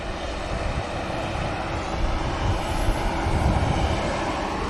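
IndiGo airliner departing Manchester Airport for Mumbai, a loud rumbling engine roar with gusty low-end texture, building slightly toward the end, alone without voices.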